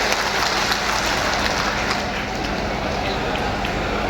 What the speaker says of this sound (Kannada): ನಿಜವಾಗಿ ಜೋರಾದ ಚಪ್ಪಾಳೆ ನಮ್ಮೆಲ್ಲ ಮಠ ಮಾನ್ಯರಿಗೆ